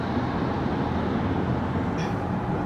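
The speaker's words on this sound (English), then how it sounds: "Look at the choo-choo train." A passing train's steady, loud rumble heard outdoors near a beach, continuous and broadband throughout.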